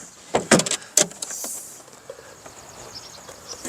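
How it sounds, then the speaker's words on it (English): Drawers of a Chinese chess cabinet are pulled open, giving a few quick wooden scrapes and knocks close by, followed by faint rattling of loose contents. "So let's go ahead and pull the drawers open."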